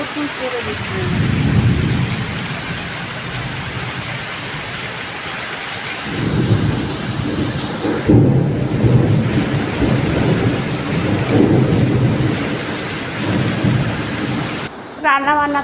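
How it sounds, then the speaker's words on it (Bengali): Heavy rain pours steadily with deep rolls of thunder rumbling in several waves, loud and close, filling the whole stretch without speech. "বৃষ্টিটা দেখো, তুমুল বৃষ্টি হচ্ছে,"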